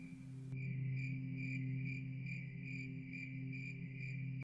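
Steady, high-pitched cricket chirps pulse in a regular rhythm, loud and close, over a low continuous hum.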